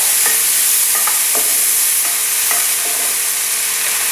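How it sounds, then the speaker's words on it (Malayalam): Mushrooms and onion sizzle loudly in a hot pan while a spoon scrapes and stirs through them in repeated strokes, the frying hiss constant and close throughout. "ഇനി ഇതിലേക്ക് മഷ്റൂം ചേർക്കാം. ഇനി ഇതിലേക്ക് സവാള ചേർത്ത് കൊടുക്കാം."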